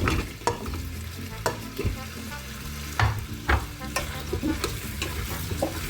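Pumpkin pieces, potatoes and peppers sizzle in a pot for pumpkin milk soup, with repeated close spoon strokes scraping and turning them over a constant frying hiss.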